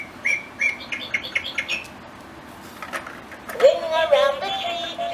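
A VTech Roly Poly Learning Tree toy plays electronic bird chirps in a quick series of short tweets, then a pause, then a longer warbling electronic melody.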